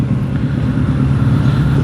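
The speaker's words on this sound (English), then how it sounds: "People driving by with noisy cars." Noisy cars drive past on a nearby road, making a steady, loud low rumble of traffic with no voices.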